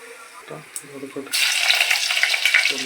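Cumin seeds and garlic hit hot oil for a Marathi jackfruit vegetable dish. A short stretch of talk gives way to a sudden, loud, close sizzle that hisses steadily to the end.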